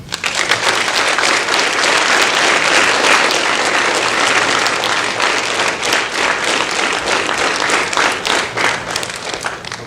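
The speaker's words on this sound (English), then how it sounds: "You find your parents right now and you give them a round of applause" A crowd claps loudly and steadily for their parents at a youth police academy event, a dense, continuous wave of applause lasting throughout.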